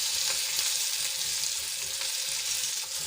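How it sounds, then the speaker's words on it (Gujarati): Stuffed chillies, Kathiyawadi style, sizzle steadily in hot oil in a pan while being turned, a continuous crackling fry with small scraping and stirring sounds, close and without voices. "આ રીતે બે થી ત્રણ વખત બધી બાજુ ફેરવીને આપણે પલટાવશું જેથી કરીને આપણા મરચાં સરસ રીતે ચડી જાય"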